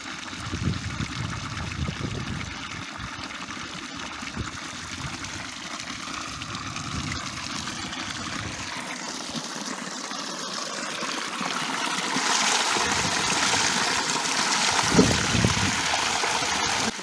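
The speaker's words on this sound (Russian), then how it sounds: "Шумит родник." Steady babbling of a natural spring runs throughout, a continuous close trickle that swells slightly louder toward the end.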